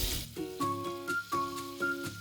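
Oil and butter sizzling in a preheated pan during home cooking, a steady loud frying hiss with several rhythmic stirring or clanking pulses mixed in.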